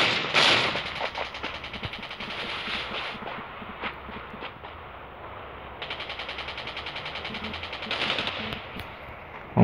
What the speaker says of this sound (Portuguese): Ouvi tiro pra cá.